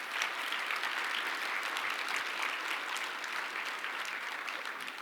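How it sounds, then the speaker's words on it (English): Audience applause at a morning community breakfast, honouring Maryland Governor-elect Wes Moore: steady, even clapping from a room full of people, holding at a constant level for the whole stretch. "We get another round of applause for Governor-elect Wes Moore."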